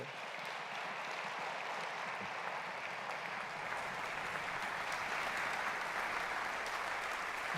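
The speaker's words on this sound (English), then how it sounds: "Let's give them all a nice round of applause for their work." A concert audience applauds a wind band's board and director, a long, even roar of many hands clapping throughout a hall, steady and sustained with no break.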